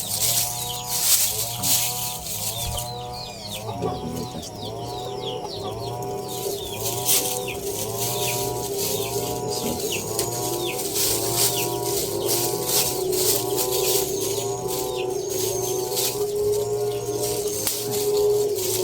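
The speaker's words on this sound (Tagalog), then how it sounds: "may mga manok kasi" Busy farmyard chorus of clucking chickens and other birds, continuous and fairly loud, with layered calls overlapping throughout.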